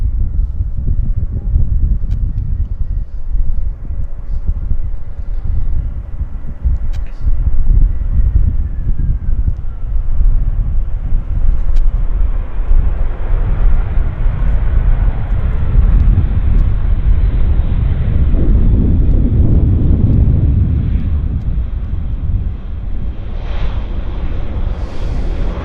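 An Air Canada airliner lands at Vancouver Airport, its engines making a loud, continuous roar that swells, with a rumbling low surge in the middle and wind buffeting the microphone.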